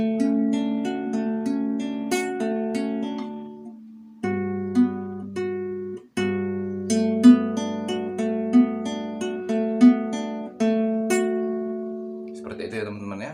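Guitar fingerpicking in a wirang drumming pattern, repeated plucked notes and ringing chords in a steady rolling rhythm with a brief pause midway, close and clear.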